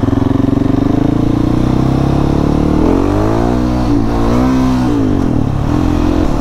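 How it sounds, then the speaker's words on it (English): A Husky 701 Enduro motorcycle with a new exhaust revs loud and close as it accelerates in a roll-on wheelie. The engine note holds steady, then climbs and dips through several surges. "So that was just a roll-on wheelie. I didn't even really give it much gas."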